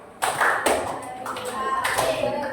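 A school group claps in a counted pattern, producing a few sharp bursts of hand claps separated by brief pauses, close and fairly loud, with voices chanting along between the claps.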